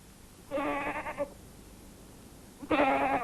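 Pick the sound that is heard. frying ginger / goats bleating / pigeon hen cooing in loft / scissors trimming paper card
goats bleating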